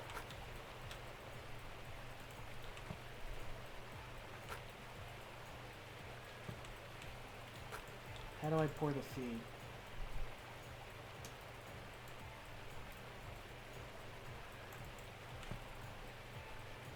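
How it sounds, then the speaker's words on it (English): Steady rain falling in Gold Mining Simulator, a soft continuous patter and hiss throughout, with a person speaking briefly over it partway through. "And apparently it's raining."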